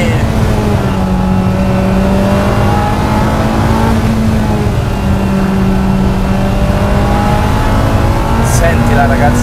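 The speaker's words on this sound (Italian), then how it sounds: "Sentila, ragazzi, che spettacolo, una Ferrari di quegli anni tutta nelle nostre mani." A Ferrari 328 GTS with a naturally aspirated engine pulls hard through the gears, a loud, steady engine drone rising and falling in pitch as it accelerates, with a brief shift partway through.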